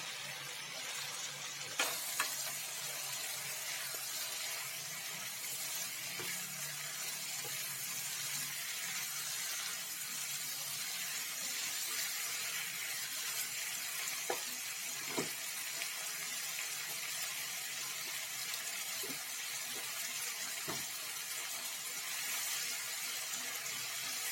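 Spring onion and habanero sauté in a pan for an anchovy chili dish, giving a steady, even sizzle throughout with a few sharp utensil clicks and no talking.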